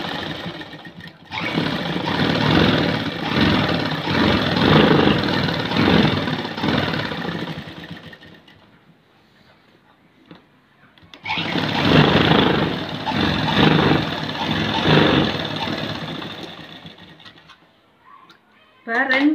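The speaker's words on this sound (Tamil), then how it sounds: "ரெண்டு ஓரத்தில் இலையாடி ரெண்டு தையல் போட்டுருவோம்" A tailor's sewing machine stitches two edge seams on a chudidhar pant, humming loudly and steadily in two long runs with a quiet gap between them.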